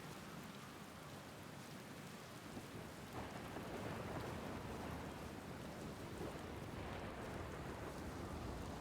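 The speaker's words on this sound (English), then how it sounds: "With the rain pouring down," Steady heavy rain pours down inside a massive storm in the video game Outer Wilds, with thunder rumbling low beneath the continuous hiss, which grows slightly louder midway.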